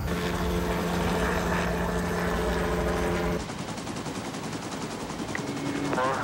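Rhythmic chopping drone of a police helicopter above a ground pursuit, continuous throughout, with the background noise shifting abruptly partway through.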